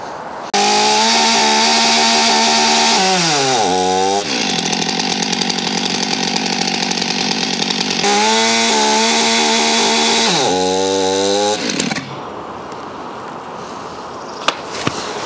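A chainsaw revs loudly and close while its chain cuts into cut-protection trousers. The engine holds a steady high whine, dips and bogs twice as the fabric binds, then revs again before dropping to a quieter idle.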